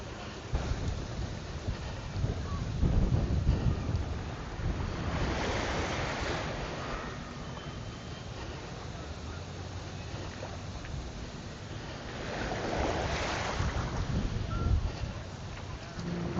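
Ocean surf washes onto the shore at Palm Beach, Aruba, in a steady broadband rush, with two louder swells of breaking waves building and fading over the stretch; no one speaks.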